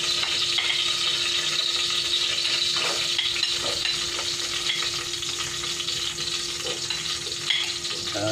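Garlic frying in a pan for Filipino fish afritada, giving a dense, continuous sizzle that stays loud and close throughout, with a few faint utensil scrapes and clinks rising above it.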